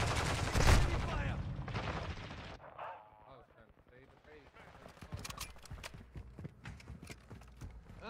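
Enemy gunfire in a video game, heard as fast, crackling bursts of shots and impacts that grow denser toward the end, with a player's voice talking over the opening seconds.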